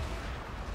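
Artillery fire in the Total War: Fall of the Samurai battle during a Nagoya attack, a dense low rumbling boom filling the moment, continuous and heavy without clear separate shots.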